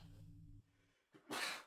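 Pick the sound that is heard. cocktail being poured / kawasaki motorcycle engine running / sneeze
sneeze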